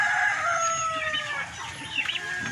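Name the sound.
chickens crowing and clucking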